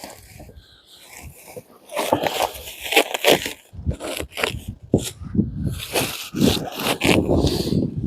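Plastic shrink wrap and a green strap are cut and pulled off a newly delivered sawmill package outdoors in freezing cold: close, uneven rubbing, crinkling and scraping bursts, growing louder and busier after a quiet start.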